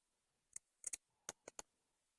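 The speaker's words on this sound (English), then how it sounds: "My scissors is gonna have a heck of a time trying to do this." Small scissors snip a cotton wick close to the edge of an Aspire BDC vape coil head: six sharp, crisp clicks in quick irregular succession, close and fairly quiet, with no talking.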